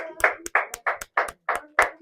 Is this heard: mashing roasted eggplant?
no